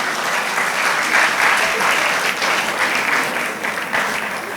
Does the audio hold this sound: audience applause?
yes